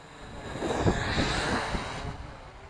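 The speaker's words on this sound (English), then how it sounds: "that wind's really smacking this one around a little bit" Wind buffets a small flying drone outdoors, making a continuous rushing, gusty roar that swells in the middle and eases toward the end.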